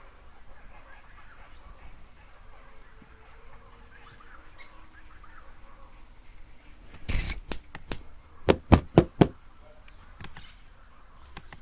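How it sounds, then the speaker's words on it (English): Sharp knocking in a FNAF-style horror video game: after a long stretch of quiet ambient hum, one loud hit lands, then a tight cluster of several rapid knocks follows close together. "Yep, I can hear knocking."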